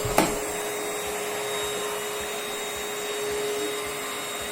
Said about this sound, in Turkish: Hadi biraz da sen süpür.